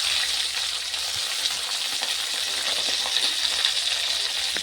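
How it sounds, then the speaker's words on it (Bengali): Chili, garlic and onion fry in hot oil with panch phoron, giving a steady, close, bright sizzle and crackle without pause. "এই যে লাল লাল করে ভাজি নিই আর এটিকে আমার তলানি খান একদম লাল লাল করে ভাজি নিয়ে নিচ্ছি"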